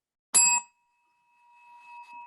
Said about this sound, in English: Must be right if we both hit the bell